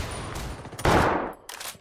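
Gunfire from an AK rifle in the video game Tom Clancy's Ghost Recon Wildlands: a loud burst of shots near the middle and another short burst shortly after, with no talking.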